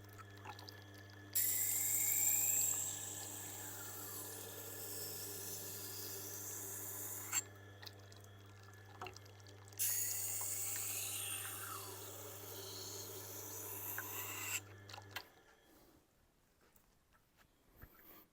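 Steel knife blade ground on a Tormek wet sharpening wheel, two long rasping passes of steady grinding over a constant low motor hum, the wheel running on alone briefly between strokes before stopping.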